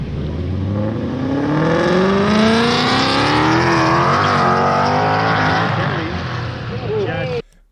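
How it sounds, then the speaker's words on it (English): Car exhaust with a raspy edge, loud and close, revving up through the range with rising engine tones for several seconds before cutting off abruptly. "pay attention early in the rev range chat. You can hear it's just got a little bit of rasp"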